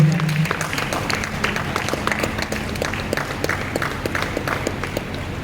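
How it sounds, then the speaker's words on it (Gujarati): Steady clapping from an audience at a badminton tournament's medal distribution and closing ceremony, many hands applauding together in a dense, even patter that continues throughout. "આપણે તાળીઓના ગડગડાટથી"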